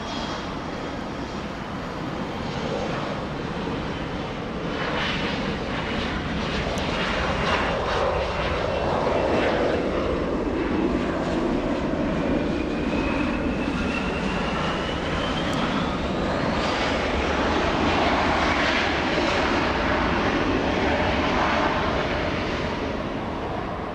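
An airliner departs Los Angeles International Airport, its jet engine roar building into a loud, steady, sustained rush that holds for the whole stretch, with a faint rising whine threading through the noise and no voices.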